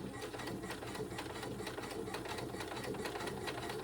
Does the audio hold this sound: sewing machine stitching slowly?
yes